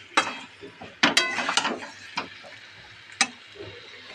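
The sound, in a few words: stir-frying vegetables with black pepper powder in a pan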